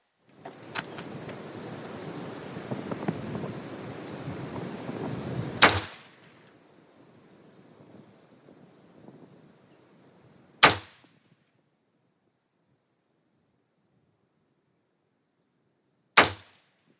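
A shooting range with an Inglis P35 High Power 9mm pistol with a 4.7-inch barrel: a long burst of noise ends in a sharp loud shot, followed by two more single shots spaced several seconds apart with quiet between.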